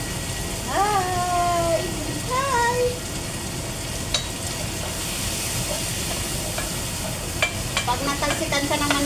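Food sizzles in hot oil in a home kitchen with a steady broadband hiss, while a cat meows twice early on and faint clinks and stirring follow.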